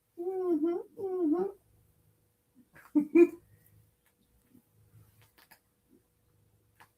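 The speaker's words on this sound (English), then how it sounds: "Very cuddly cat." Domestic cat giving two close, distinct meows in quick succession, followed by softer faint sounds and near-silence.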